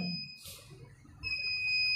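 A continuous electronic alarm beeps in high steady tones that fade out briefly and return, heard indoors during an Indonesian religious lecture.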